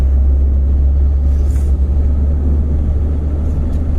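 A Fiat Palio G1 engine accelerates in third gear, a steady, close low rumble and drone that holds throughout with slight swells.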